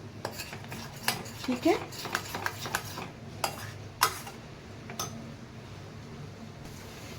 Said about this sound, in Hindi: इस प्याज को भी अब हम तब तक सेकेंगे, और थोड़ा बीच बीच में चलाते भी रहिए